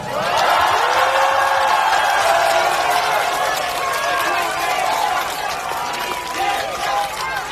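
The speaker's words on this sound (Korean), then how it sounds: "큰 우렁찬 함성과 박수를 부탁드립니다" Election rally crowd in Mapo, Seoul, cheering loudly with shouts and dense applause, a sustained roar of many voices over clapping throughout.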